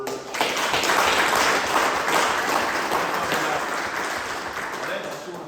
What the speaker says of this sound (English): So I think a round of applause is in order.